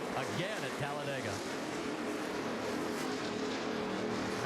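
NASCAR stock cars roar past at speed at Talladega after a restart, with a dense, steady wash of engine noise under a commentator's voice throughout.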